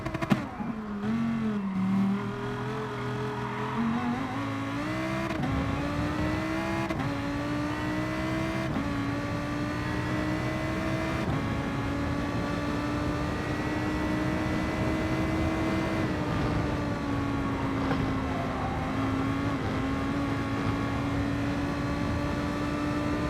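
A race car laps a track in Gran Turismo, driven with a Logitech G923 Trueforce wheel. The simulated engine drones steadily and loudly, shifting pitch up and down through gear changes and throttle, with no talk over it.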